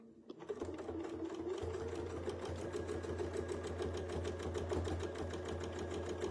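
A sewing machine stitches free-motion circles in a quick, steady mechanical chatter, close and continuous after a brief start, with no talking.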